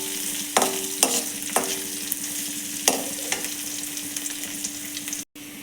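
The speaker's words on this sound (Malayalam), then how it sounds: "നമ്മളെടുത്ത് വെച്ചിരിക്കുന്ന കടച്ചക്ക ഇതിനകത്തേക്ക് ഇട്ട് കൊടുക്കുകയാണ്." Breadfruit pieces frying in a hot pan, a steady close sizzle broken by several sharp stirring clatters and scrapes.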